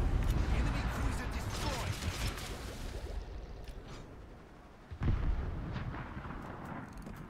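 A warship blows up in a naval battle game, with booming blasts and rumbling fire at the start, then a sharp new explosion partway through, all under a player talking.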